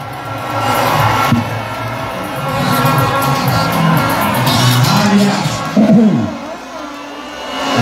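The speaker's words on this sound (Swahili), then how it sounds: "Wapi vigelegele?" A large outdoor crowd cheers and shouts continuously for President Ruto arriving in Kagio, Kirinyaga, a loud and dense roar with some voices rising above it and a burst of louder yelling near the end.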